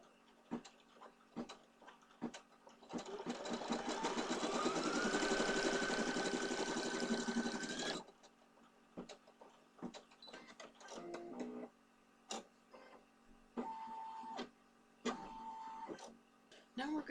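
An embroidery machine stitches a face placement in a steady, fast mechanical whir lasting about five seconds, then stops, followed by quieter clicks and handling noises.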